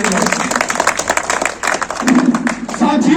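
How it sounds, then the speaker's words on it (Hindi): A crowd applauds at a political party foundation day rally in Mendhar, a steady dense patter of clapping that swells and fades under a loudspeaker voice and crowd noise. "जोर से ताली बजाओ"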